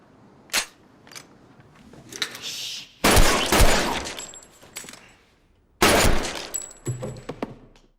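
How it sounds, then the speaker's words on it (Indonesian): Film gunfire rings out as a hitman shoots everyone in the room: sharp isolated shots, then two loud rapid bursts of fire with clattering debris and quieter rustles in between. "pembunuh ini pun mengambil senjata dan langsung menembak semua orang yang ada di sana"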